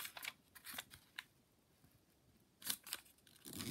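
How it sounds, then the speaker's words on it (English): Square origami paper being folded diagonally in half, faint crisp rustles and soft creasing scrapes in a few short bursts, close and quiet. "Now we're going to fold it diagonally in half."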